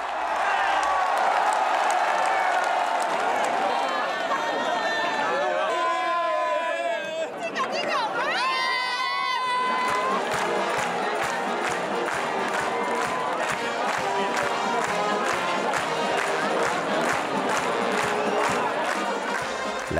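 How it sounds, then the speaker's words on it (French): A festival crowd at the Saint-Jean horse celebration in Menorca erupts into loud cheering and shouting, swelling to a roar and followed by sustained rhythmic clapping and noisy chatter. "Lorsque le but est atteint, la foule se déchaîne."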